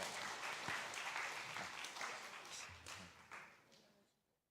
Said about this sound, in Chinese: 那我们拍手鼓励他们了哈，鼓励他们来